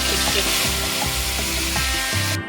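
Salted prawns fry in hot oil in a wok, a loud, close, steady sizzle with occasional clatter of stirring, cut short abruptly at the end.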